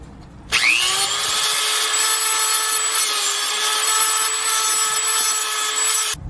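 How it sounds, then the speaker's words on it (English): An angle grinder takes the sharp edge off a brake lever for Cadillac-style rear disc brakes, spinning up abruptly into a loud, steady high-pitched whine with a bright metallic grinding edge for about six seconds before cutting off. "So I'm going to take a grinder and grind off a little bit of the sharp edge right there."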